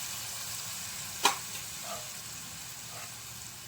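Food roasting in a pan gives off a soft, steady sizzle, with one sharp utensil tap and a few faint scrapes, and no one speaks.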